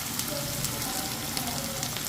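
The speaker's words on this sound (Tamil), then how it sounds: "இப்போ வந்து கரட் கொஞ்சம் பொரியட்டும்" Chopped carrots frying in hot oil, a continuous close crackling sizzle with fine popping spatters, steady and moderately loud with no talking.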